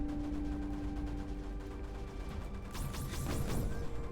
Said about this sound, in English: Explosions are beautiful.